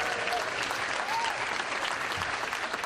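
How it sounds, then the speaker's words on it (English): Seminar audience at a marketing event applauds in a steady, dense wash of clapping that fills the room and holds evenly throughout. "Let's give them a round of applause"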